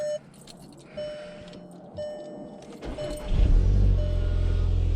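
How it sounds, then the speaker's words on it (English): A Volkswagen MK7 GTI engine cold-starts, its low rumble surging up loud and close after a few seconds of quiet and settling into a steady, heavy idle. "Got a little cold start."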